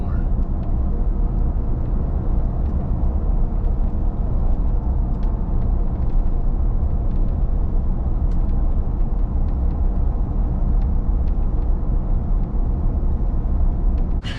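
Car cruising at about 50 mph on cruise control with coilover suspension at setting 4, a constant low road and engine rumble filling the cabin, steady and loud throughout.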